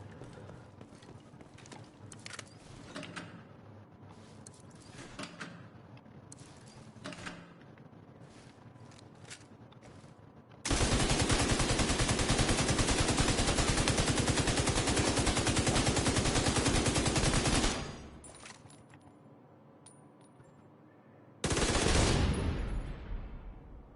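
Gunfire and explosions from The Division 2 on PlayStation 5 come as rapid clattering bursts, then a long, loud, dense stretch of sustained fire, a pause, and another heavy burst, with no speech.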